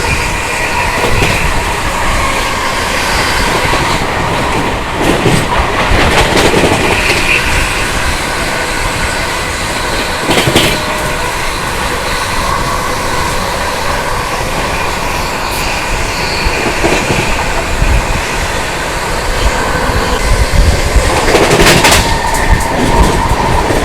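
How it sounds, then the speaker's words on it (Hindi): The Sealdah Rajdhani Express runs on the rails past Etawah Junction railway station with a loud, continuous roar of wheels and wagons, rhythmic clanks recurring throughout, heard close and without talking. "अपनी सियालदा राजधानी एक्सप्रेस स्किप करने वाली है इटावा जंक्शन रेलवे स्टेशन"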